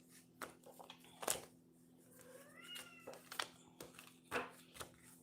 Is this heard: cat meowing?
yes